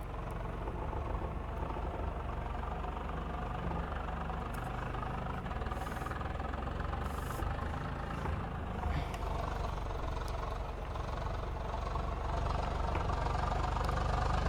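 A steady, droning tractor engine in the video game Farming Simulator 22 runs continuously at a constant pitch, loud and close.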